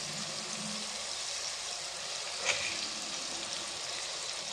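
Tomatoes sautéing with salt in a pan for rice-and-lentil rice give off a faint, steady frying hiss, broken once midway by a single soft click, with no voices.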